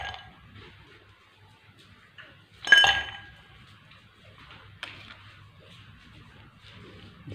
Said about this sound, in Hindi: गिलास में 2 आइस क्यूब डाल देंगे।